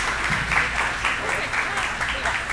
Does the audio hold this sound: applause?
yes